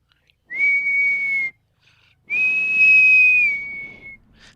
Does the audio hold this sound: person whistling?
yes